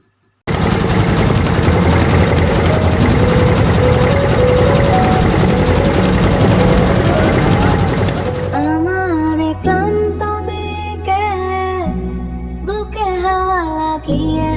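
Motor trawler on a river at a three-river confluence near Chandpur, its engine a loud steady rumbling drone for about eight seconds before music takes over.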